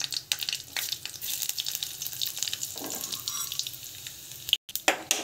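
Mustard seeds and cumin crackle and sizzle in hot oil in a pan, a steady, fairly faint frying hiss with scattered pops throughout and no voices.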